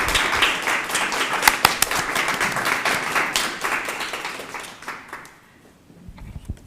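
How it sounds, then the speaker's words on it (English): Forum audience applauding in a dense, steady burst of many clapping hands that holds for about five seconds, then thins out and fades into scattered claps near the end. "I really want to just make sure that we do the applause first"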